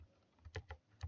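Quick, crisp key presses on a computer keyboard while a C program is compiled and debugged with gdb, a short cluster of three or four close taps ending the typed command, with no talking.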